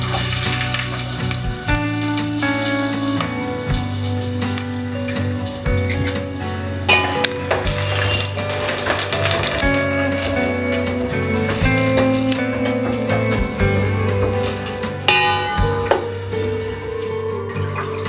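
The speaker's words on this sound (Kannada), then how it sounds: "ಈ ಎಣ್ಣೆ ಕಾದಿದೆ. ಈ ಟೈಮಲ್ಲಿ ನಾನು ಆನಿಯನ್ ಸೇರಿಸ್ಕೊಳ್ತೀನಿ." Onions fry in plenty of hot oil with a loud, dense, continuous crackle and sizzle, close up, with occasional stirring clinks in the pan.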